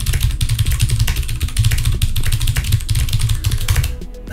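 Rapid, continuous typing on a Das Keyboard 4 mechanical keyboard, with close, loud, crisp key clicks and thocks in a fast irregular rhythm, heard alone throughout.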